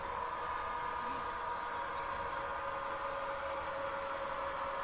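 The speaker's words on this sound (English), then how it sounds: "So this train is now on the track that normally handles eastbound traffic" A train runs along the track near Evanston yard, a steady continuous rumble and hum with a sustained tonal whine, unchanging and moderately loud throughout, with no talking.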